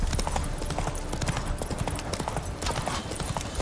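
Hooves of Roach, Geralt's horse in the video game The Witcher 3, clip-clopping in a steady close rhythm throughout, with a brief whinny-like hint and busy game ambience beneath.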